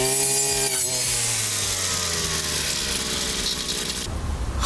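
Brush cutter fitted with an aggressive forestry-type blade slicing through a tree trunk, a loud, close, continuous whining saw roar with a rising grind as the blade bites into the wood.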